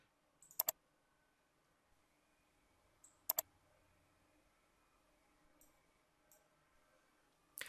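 Computer mouse clicks while navigating admin software, sharp isolated clicks in pairs at a few points against a quiet background, with a couple of fainter clicks in between.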